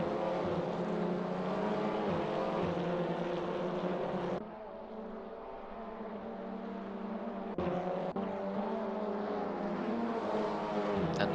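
Sim race cars lapping the Red Bull Ring in a TCR Eastern Europe online race, steady droning engine whine that dips briefly midway then swells back, continuous and fairly loud with no speech.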